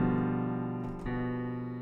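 A sustained seventh chord in first inversion with the third in the bass, rings steadily and close, briefly restruck partway through, with no voices.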